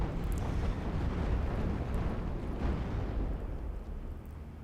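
Off-map artillery barrage explosions in a WWII strategy game rumble as a dense, continuous low roar of overlapping blasts, loud at first and slowly easing off.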